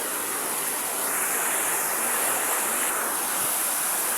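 Sea waves along the shore at Carmen, Surigao del Sur after a typhoon, a continuous wash of surf with a gentle swell and fade, moderately loud and without voices.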